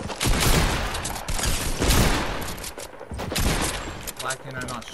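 Rapid bursts of gunfire in the video game Fortnite, dense repeated shots in clusters with brief lulls, loud and close.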